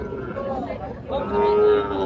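A young Sahiwal calf, about six months old, lows once at a busy cattle market, a drawn-out moo that rises in its second half over a murmur of crowd noise.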